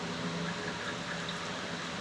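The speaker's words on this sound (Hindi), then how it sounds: "और जब मैं इसमें पानी भरता हूँ" Water being poured into an empty container holding a coin, a steady close hiss of filling liquid lasting the whole couple of seconds, even and moderately loud with no talk.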